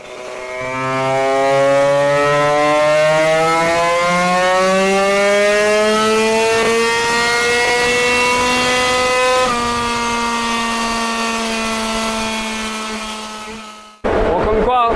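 MBK Magnum Racing 100cc moped engine running with a stinger exhaust, revving loud and close in a buzzing two-stroke whine that climbs in pitch, holds at a high rev, then cuts off abruptly before a brief clatter.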